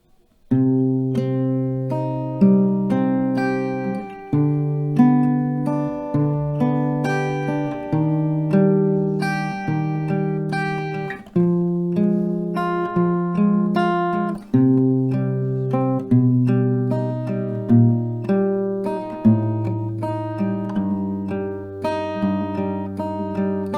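Acoustic guitar slowly plays a verse, steady strummed and picked chords ringing in a close, clear room with no voices.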